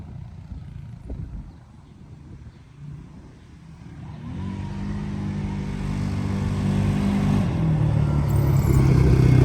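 A CFMOTO CForce 600 ATV engine climbs a hill, starting low and rough, then revving higher and louder with a rising, strained drone that builds steadily until the end.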